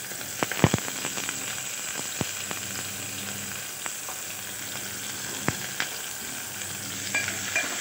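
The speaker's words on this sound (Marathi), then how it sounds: "मी कांदा पटकन भाजतो" Vertically sliced onions frying with cumin in hot oil for veg pulao, a steady close sizzle dotted with sharp pops and crackles and occasional spoon knocks, no voices.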